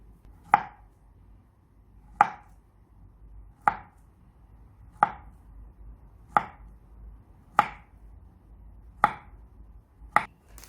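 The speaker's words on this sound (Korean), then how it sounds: "크래커 크기에 맞추어서 바나나도 적당한 크기로 잘라줍니다" A knife chops a banana into pieces on a cutting board, eight crisp single knocks spaced about one and a half seconds apart, close and clear against a quiet background.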